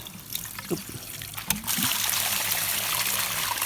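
Water gushing from a two-inch pipe fed by a solar-powered pump, a broad, steady rushing flow that swells louder after a splashy start and continues without break.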